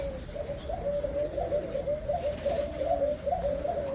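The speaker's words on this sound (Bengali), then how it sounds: "এই যে এটা নান কবুতরের নর" A male red Nun pigeon coos close by in soft repeated rolling phrases, a steady throaty warble running the whole time with faint chirps in the background.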